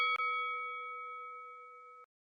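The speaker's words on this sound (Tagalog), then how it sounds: "huwag kalimutan na pindutin ang notification bell" A single bright bell-like ding struck once, ringing clearly with a long, slowly fading sustain for about two seconds before cutting off, alone with no other sounds.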